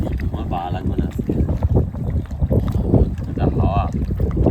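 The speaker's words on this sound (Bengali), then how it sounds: "এটা হাওয়া।" Wind gusts steadily across a small boat on the Matla River, a constant low rumble of buffeting with soft water noise throughout, while people talk in the background.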